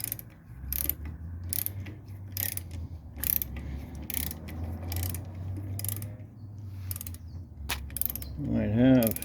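Ratcheting wrench clicks while a bolt is tightened on the disc brake mount of a 1929 Chrysler, sharp bursts repeating in irregular groups at close range over a low steady hum, ending in a louder creaking squeal.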